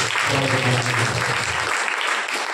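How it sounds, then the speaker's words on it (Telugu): Dense, steady applause fills a church all-night prayer meeting, with a low voice or hum underneath during the first part before the clapping carries on alone. "చప్పట్లు బలంగా వస్తుంది."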